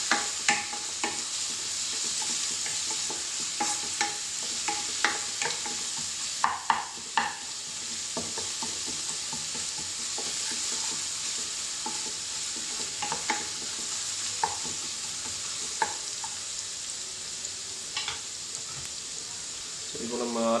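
Onions sautéing in a pan for an egg masala, a steady sizzle under repeated scraping stirs throughout, with occasional talk nearby.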